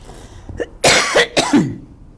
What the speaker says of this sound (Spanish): Perdonen porque traigo algo de tos.